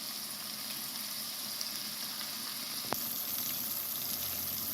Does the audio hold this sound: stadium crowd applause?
no